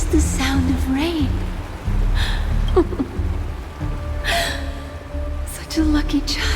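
Steady rain falls in the Honkai: Star Rail video game, a dense hiss running through the whole stretch beneath voices talking over it.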